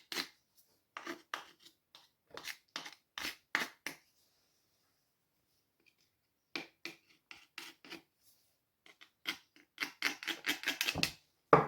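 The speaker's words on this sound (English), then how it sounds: "I'm going to trim the edges." Scissors trimming the pastry edges of a handmade pie, heard as bursts of crisp snipping and rasping cuts in uneven runs, pausing briefly mid-way before a denser flurry, close and fairly quiet with no talking.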